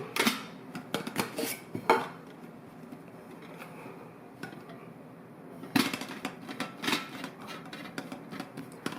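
Evernew and Snow Peak titanium cookpots clink and rattle as they are handled, with sharp metallic knocks in two busy bursts separated by a quieter stretch.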